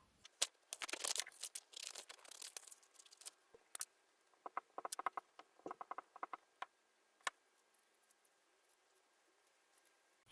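Paper being cut with scissors around a printed wagon picture for a miniature farmhouse craft, giving a run of small, close snips and crisp paper rustles in separate bursts, then a few isolated clicks toward the end.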